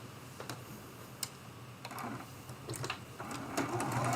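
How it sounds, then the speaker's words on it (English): A sewing machine stitches a Churn Dash quilt block ornament edge to edge, its close mechanical needle chatter running in short bursts, then picking up into a steadier, louder run; no speech. "And I'm sewing edge to edge."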